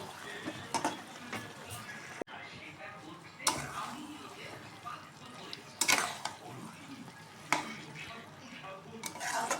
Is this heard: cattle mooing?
no